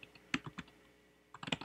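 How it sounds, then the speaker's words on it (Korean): Typing on a computer keyboard during a coding session, two short bursts of crisp key clicks, a few quick strokes, a pause, then a faster cluster, close and fairly quiet with no talking. "타이핑이 제대로 안 되고 있습니다"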